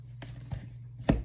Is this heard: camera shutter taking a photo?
no